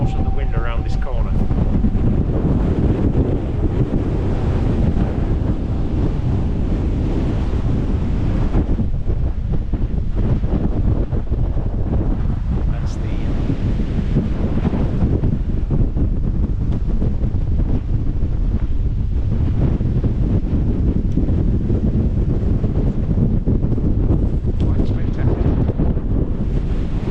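Strong wind on a snowy moorland hillside roars as heavy, continuous buffeting across the microphone, loud and close, surging and easing in gusts throughout.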